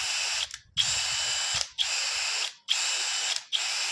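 DCK KDJZ23-10i 12V brushless cordless drill spinning in short bursts, four or five loud, steady whirring runs near the mic, each cut off by a brief ratcheting click and pause.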